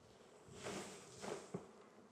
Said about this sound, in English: the first bees that fly off are our forager bees